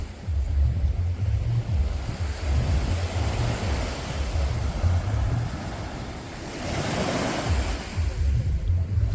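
Surf rolling onto Chaweng Beach on Koh Samui, Thailand, a steady broad wash of breaking waves with a louder swell surging in near the end, mixed with wind noise and distant traffic.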